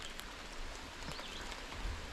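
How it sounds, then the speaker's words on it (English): Steady rain falling outdoors beside a carp-fishing spot, a soft continuous patter with a few brief droplet taps and faint low rumbles, no voices. "The rain, I'm pretty sure, is about to pass in the next 30 minutes."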